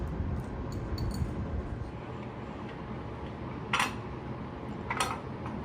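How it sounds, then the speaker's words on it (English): A camshaft slides out of a 6.0 liter engine during teardown, heard as faint metallic ticks and clinks with two sharper metal scrapes near the end, close up in a quiet shop. "Pulling the cam out"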